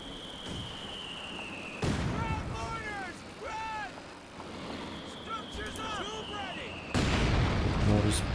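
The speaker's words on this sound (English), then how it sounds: "Mortars bombing away." Mortars firing and shells bombing in a Company of Heroes match, with heavy booming blasts at intervals amid battle noise, while a commentator talks over it.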